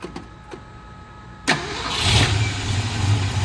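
A 1966 Ford Shelby Mustang GT350 cold-starts with a sharp starter crank, then the engine catches and settles into a loud, rumbling idle close by.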